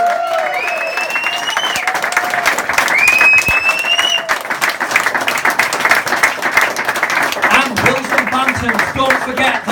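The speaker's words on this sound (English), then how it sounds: "let's have a massive round of applause for all of our footballing heroes here" Crowd applause and cheering at an evening reunion for Bradford City's 1995-96 football squad, a dense sustained wash of clapping from a large indoor audience, with voices and a few whistles mixed through it.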